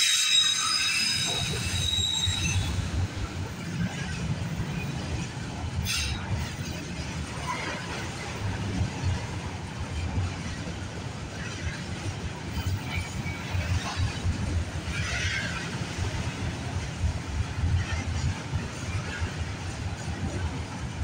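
A night freight train with autorack cars rolls steadily past for the full length, a continuous low rumble of wheels and cars with occasional higher squeals.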